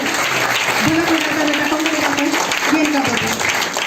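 A congregation at a church gathering claps loudly and steadily for several seconds, while a voice rings out over the applause.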